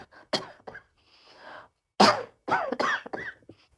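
A man lets out several short coughs and throat-clearing bursts in a quiet room, close and fairly soft, spaced unevenly with brief pauses between.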